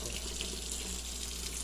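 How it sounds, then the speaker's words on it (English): Tap water runs steadily into a cooking pot to bring back the boil, a constant close hiss and splash with no talking. "just add more water to it"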